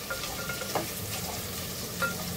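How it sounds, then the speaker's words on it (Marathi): Long-sliced onions frying in a pan: a soft continuous sizzle with occasional light stirring scrapes, close and quiet, with no voices. "मस्त असा कांदा शिजतोय आपला."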